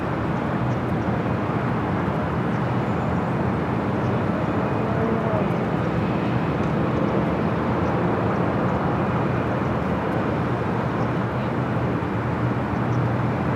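An airplane taking off from runway 24 left at Los Angeles airport in heavy fog, a steady, loud broadband jet roar that holds without a break throughout.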